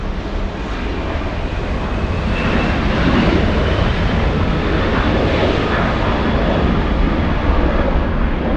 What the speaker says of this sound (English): We're looking at Korean 18, a 747-8, and this one pretty much guaranteed to depart north.